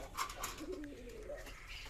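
Pigeons kept in a backyard loft coo softly in a short, repeated series of low throaty calls, close by, with a faint background hiss and no talking.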